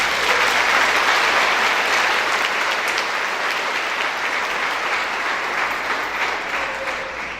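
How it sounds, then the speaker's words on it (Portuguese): A church congregation claps in sustained, dense applause, loud and even throughout with a slight fade toward the end. "Vamos aplaudir o Senhor."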